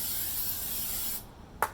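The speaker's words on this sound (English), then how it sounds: "Just go ahead, spray it down with brake cleaner," Brake cleaner sprayed from an aerosol can onto a new brake rotor for a 2006 Ford F150 2WD, a steady loud hiss for over a second, then a short spray burst after a brief pause.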